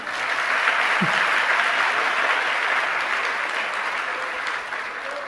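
An audience at a Jain religious discourse claps in steady, full applause for about five seconds, filling the hall with dense, continuous clapping.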